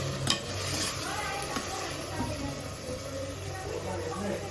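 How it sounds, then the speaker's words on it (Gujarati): Crushed garlic and onions frying in a pan, a continuous close sizzle with occasional stirring scrapes, while someone talks over it. "જો ડુંગળી હરખી ચડી જાય ને એટલે એમાં આપણે લસણ નાખી દીધું છે, ખાંડેલું લસણ."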